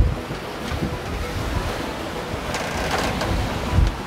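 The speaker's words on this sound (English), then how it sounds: "The sea is really high today. We got a big wave." High seas wash and surge around a fast sailing trimaran in about 20 knots of wind, a constant loud roar of waves and wind buffeting the microphone, with a heavier surge near the end.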